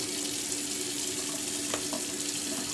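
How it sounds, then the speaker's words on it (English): Hands being washed under running tap water, a steady close hiss of flowing water with a few faint splashes and no talking. "Wash the hands again."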